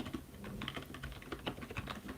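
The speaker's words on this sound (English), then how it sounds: "Let's get my keyboard" Rapid typing on a computer keyboard, a dense run of close, crisp key clicks with uneven rhythm, heard alone without talk.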